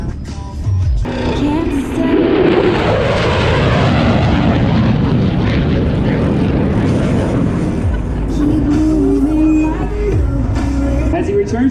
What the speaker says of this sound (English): demonstrates the low altitude, high-speed capability of the F-16